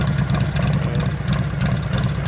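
A 2001 Gilroy Indian race bike with a gutted exhaust pipe idles close by, a steady low rumbling throb with an even, slightly uneven pulse and no revving.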